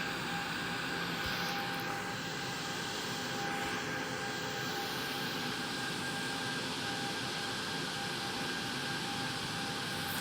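An airplane engine drones during a climb in the X-Plane Mobile flight simulator, a steady, even, fairly quiet roar with a faint hum that holds unchanged for ten seconds, heard alone.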